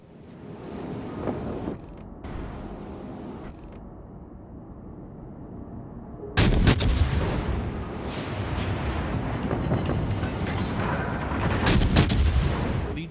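Warship main guns firing armour-piercing shells in World of Warships: Legends, heard as booming naval salvos: scattered shots at first, then a louder, denser stretch of heavy firing with mechanical creaks among the blasts.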